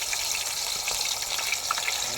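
A loud, steady, bright hiss of water splashed into boiling oil while a mutton leg kebab is being cooked, with crackling spits scattered through the roar.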